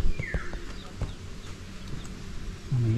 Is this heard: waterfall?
no